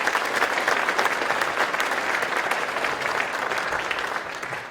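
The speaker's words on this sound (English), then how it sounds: "Give yourselves a round of applause." Sustained applause from a ceremony audience at a university athletics jacket ceremony, dense steady clapping filling the room for several seconds before easing slightly at the end.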